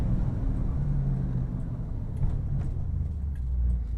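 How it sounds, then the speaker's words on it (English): A 1964 Chevy engine downshifting into second gear, heard as a continuous low engine and road rumble that swells and eases slightly, with a few faint clicks and no talking. "That's the second gear downshift."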